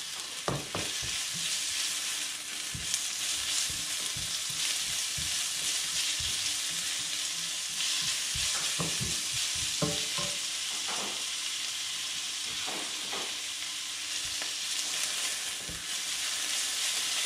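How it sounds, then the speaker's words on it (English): Onions caramelizing in a pan for chicken sukka give a steady, dense hiss of frying that runs throughout, punctuated by soft scrapes and taps of stirring, close and even in level, without speech. "Idea is to nicely caramelize the onion."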